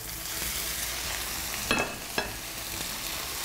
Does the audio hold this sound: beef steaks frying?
yes